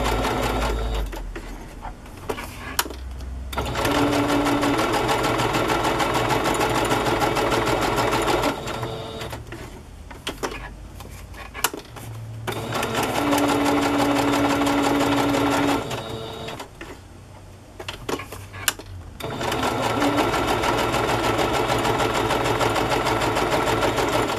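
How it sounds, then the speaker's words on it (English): A sewing machine runs a regular straight stitch around the edge of a paper strip, its loud steady motor buzz going in long runs with short pauses between them. "stitch around the border, the edge. So I'm going to do that with just a regular straight stitch"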